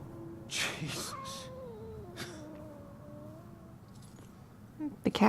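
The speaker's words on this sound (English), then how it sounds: "The cat can see me too." A cat in the video game Murdered: Soul Suspect lets out a long, wavering meow, drawn out and falling in pitch, with a few short bright noises around it and quiet background.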